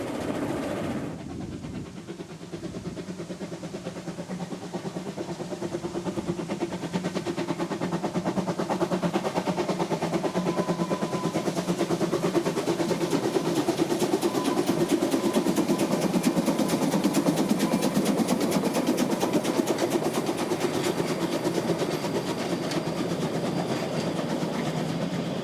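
Rasender Roland narrow-gauge steam railway train on Rügen running steadily, a continuous loud rumble with rhythmic clickety-clack of wheels on rail joints that builds in the first seconds and stays sustained throughout, with no voices.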